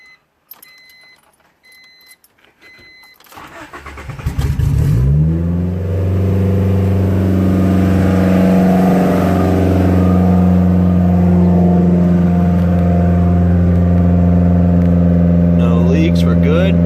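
A 1993 Honda Civic EG with a turbo engine cranks, fires up and settles into a steady loud idle, with keys jangling before the start.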